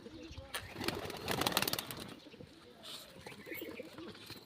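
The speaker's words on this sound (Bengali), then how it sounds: "এই দুটো এক জোড় মানিক পায়রা" A pair of Manik pigeons, kept as domestic birds, coo softly close by with occasional rustling and flutters, while a person talks over them.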